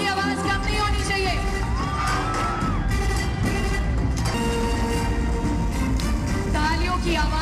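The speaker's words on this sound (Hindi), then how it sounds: "तालियों की आवाज कम नहीं होनी चाहिए।" Loud, sustained crowd applause and cheering at a company event welcoming the CEO and managing director, dense and continuous throughout, with shouts and whoops over the clapping and a voice calling out above it.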